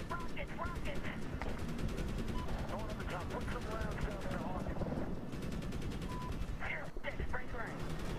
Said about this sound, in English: Shouldn't be too difficult if you just keep firing your rockets at it.